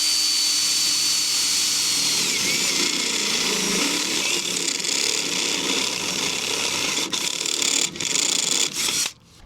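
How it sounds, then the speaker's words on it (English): Power drill boring a hole slowly for a DIY fishing mount, a continuous whining, grinding drone held for several seconds, close and loud, with a few brief bumps and a sharp stop at the end, no talk. "I'm just gonna drill slow and easy here."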